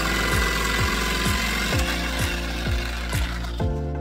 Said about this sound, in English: Now after you cut it out with a jigsaw, it should look something like this.